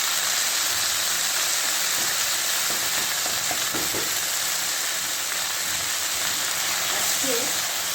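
Sliced garlic and dried chillies fry in oil in a pan with a steady, close sizzle and hiss that runs throughout, with a few faint clinks of stirring partway through.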